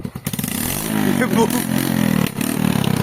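A motorcycle engine idles and revs with a rough, throaty exhaust rumble, loud and close, with a few faint vocal sounds mixed in.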